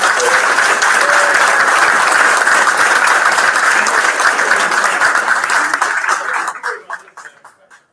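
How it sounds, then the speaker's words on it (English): A large crowd at a pro athlete investor panel in Miami applauds loudly and steadily for several seconds, then the clapping thins out and fades to silence. "Let's give a big round of applause for that."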